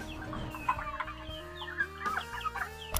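Several young male chicks cheep and cluck in short overlapping bursts inside a cage, close and fairly quiet, with no talking.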